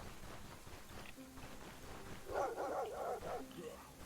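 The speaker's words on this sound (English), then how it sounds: "Doggies!" Dogs barking in the video game Stoneshard: a quick cluster of several barks in the middle, heard over a steady murmur of game ambience.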